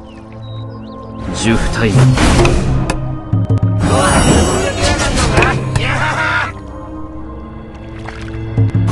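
Dark water torrent skill effect from the Onmyoji video game: two surging, splashing watery bursts of about two seconds each, loud and layered over game music, with a voice speaking throughout.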